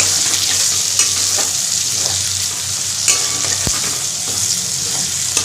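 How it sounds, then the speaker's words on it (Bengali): Chopped onions fry loudly in a pan, a continuous close sizzle broken by spatula stirs and a few sharp scrapes and taps against the pan. No talking. "পেঁয়াজটাকে ভালো করে ভেজে নেব"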